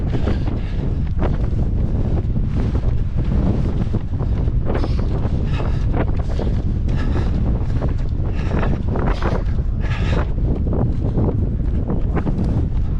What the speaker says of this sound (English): running up a bridge with like 23-mile-an-hour wind in your face